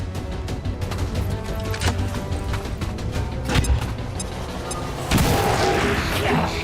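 A frag grenade goes off in XCOM 2 amid a busy mix of sharp bangs and crashes. A heavier explosive burst hits near the end and leaves a sustained rumbling roar.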